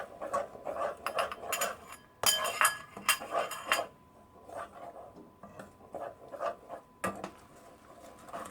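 A spoon stirs a thick milk barfi mixture in a pot, scraping and clinking against the metal in quick, uneven bursts at close range, with no voices.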